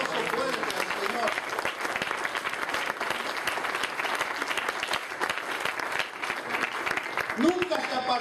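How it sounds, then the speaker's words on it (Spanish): Strong congregational applause at a Spanish-language church service, continuous dense clapping throughout with a few voices calling out underneath. "Denle ese aplauso fuerte al Señor."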